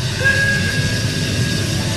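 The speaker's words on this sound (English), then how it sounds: "Whistle" Sustained steam whistle tone riding over a broad hissing of escaping steam, loud and unbroken from start to finish.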